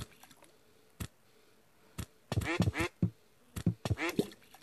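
A duck character in the Sling Birds video game quacks in short bursts, several quick quacks in two clusters near the end, preceded by sparse sharp clicks and taps; a voice may be imitating the quacks.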